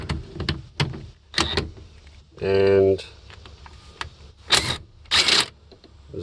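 A cordless impact gun taking the steering wheel nut off a Humvee gives one short, loud rattling burst amid clanks and handling noises, while someone speaks nearby.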